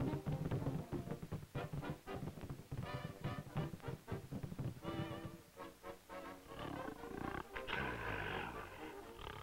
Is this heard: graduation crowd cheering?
no